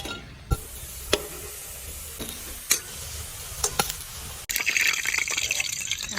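Ingredients with water and a spoonful of salt are mixed in a pan for Bengali dhokar dalna: sharp spoon clicks and taps over a soft wet hiss, then a sudden louder, bright sizzle for the last couple of seconds.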